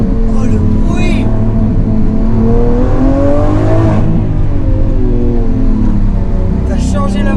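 A powerful Lamborghini Aventador SVJ engine with a changed exhaust roars and climbs in pitch, then settles, loud and near, with people talking over the noise.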